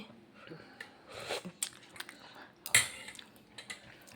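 Chicken soup with carrots, beans and cauliflower being eaten with cutlery: scattered clinks of a spoon on a dish mixed with soft chewing, close and quiet.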